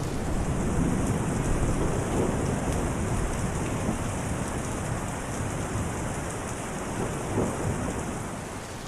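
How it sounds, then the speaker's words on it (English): Steady, dense rain pours continuously, with a low, rolling rumble of thunder beneath it, close and fairly loud throughout, and no voices. "The rain had been falling steadily all day."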